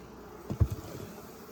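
Honeybees in hive 20, a stack of two full deep boxes and a medium, give off a faint, low buzzing that swells briefly louder for a moment before settling back into a soft drone.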